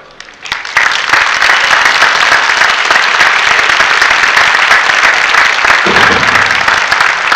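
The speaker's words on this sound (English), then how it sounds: "Let's give Zach one more round of applause" A large audience breaks into loud, sustained applause after a keynote by Zach Anner, swelling quickly from near quiet into a dense, even roar of clapping that holds steady to the end.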